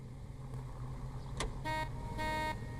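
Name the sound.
police car honking horn, from video game L.A. Noire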